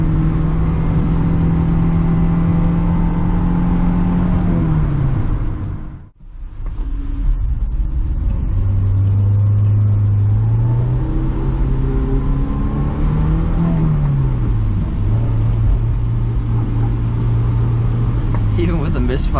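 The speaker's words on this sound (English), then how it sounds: "Even with the misfire, driving slow in the rain, this is still a really fun car." Honda S2000 roadster with an engine misfire, driving slowly on wet roads in the rain, its engine droning steadily with shifting pitch as it changes speed, a brief dip partway through, under a constant hiss of road noise.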